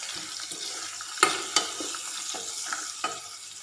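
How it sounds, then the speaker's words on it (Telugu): A spoon scrapes and taps around a frying pan as asafoetida is stirred into sizzling oil, with a steady frying hiss and a few sharper knocks. "ఒక పావు టీ స్పూన్ దాకా ఇంగువ వేసుకొని మరోసారి ఇలా కలుపుకుందాం"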